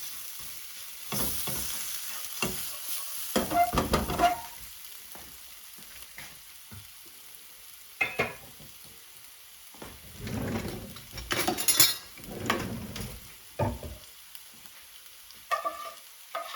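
Lamb curried rice stirred in a frying pan, with irregular scraping strokes of a utensil over a soft sizzle, coming in short bursts separated by quiet gaps.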